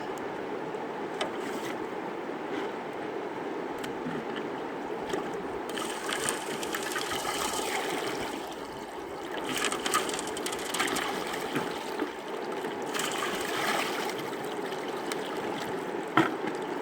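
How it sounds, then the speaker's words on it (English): A riffle mat is swished back and forth in a 5-gallon bucket of water during a gold sluice cleanout, making a steady close sloshing and churning that swells in the middle and toward the end. "Swish out your riffle mat. It's in the bucket here."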